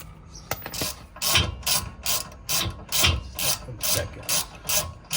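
A socket wrench ratchets in quick, rhythmic bursts of clicking, about a dozen strokes at close range, while air suspension is fitted to a Honda Accord.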